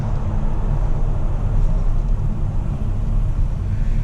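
A 2010 Ford Focus RS engine while driving on a road, a steady loud low drone and rumble from inside the car with no voices.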